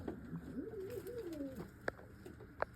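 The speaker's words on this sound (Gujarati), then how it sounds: "જો આ તમને મોટું કબૂતર બતાવું" A large American pigeon coos softly up close, a low, wavering, rolling call that lasts about a second and a half, followed by a couple of faint clicks in an otherwise quiet space.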